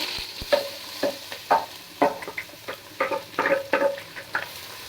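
Chopped medium onion frying in hot oil for gravy, with sizzling broken by irregular scraping and stirring strokes from a spoon in the pan, close and clear with no talk.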